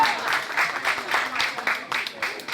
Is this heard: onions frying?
no